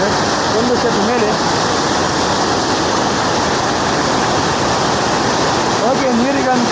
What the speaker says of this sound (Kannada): ತುಂಬ ಸಣ್ಣ ಜಲಪಾತ, ದೊಡ್ಡದೇನಲ್ಲ.